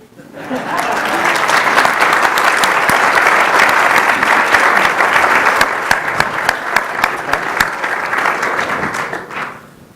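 An audience gives sustained, loud applause after a presentation at a credit union executive competition, the clapping swelling quickly and holding steady before thinning out toward the end.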